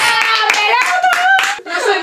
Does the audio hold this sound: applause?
yes